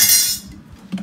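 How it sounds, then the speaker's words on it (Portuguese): Metal cutlery clinks and rattles as it is arranged in a kitchen drawer, a bright burst of jangling that fades quickly, followed by a single soft knock. "Arrumei aqui os talheres."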